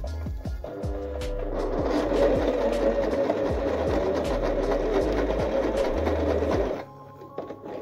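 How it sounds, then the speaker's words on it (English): A sewing machine stitches across the corner of a crochet keychain, running as a loud, steady mechanical whir for about six seconds before stopping abruptly, close to the microphone. "I'm just gonna sew across."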